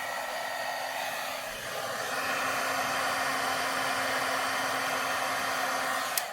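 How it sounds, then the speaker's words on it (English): A heat tool for heat setting crafts blows a steady, loud whooshing hiss throughout, close and continuous with no talking. "Grab my heat tool. You're going to hear the sound."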